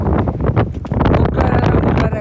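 Strong wind on a motorcycle ride to Ladakh, loud blustery roar buffeting the microphone throughout, with a voice talking over it.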